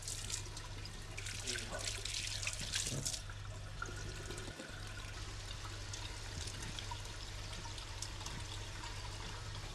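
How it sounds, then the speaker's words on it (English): A tap runs steadily into a sink while hands are wetted for washing, giving a continuous soft rushing and splashing, fairly quiet and unbroken throughout. "Wet the hands thoroughly before applying the washing agent."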